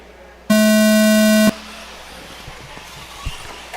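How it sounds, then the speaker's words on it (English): During a live broadcast of racing qualifying, a steady electronic start tone sounds loud and clean for about one second, then cuts off into low trackside ambience with a few faint knocks. "we're going to go live on the sound of the tone"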